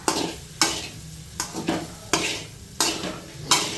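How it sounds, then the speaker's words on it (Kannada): A spoon scrapes and stirs dry-roasted ground spices (fenugreek among them) in a pan, in several distinct strokes with a faint sizzle beneath, close and clear with no talking. "ಈಗ ಇದನ್ನು ಮತ್ತೆ ಇನ್ನೊಂದು ಸ್ವಲ್ಪ ಕೆದ್ಕೋಣ"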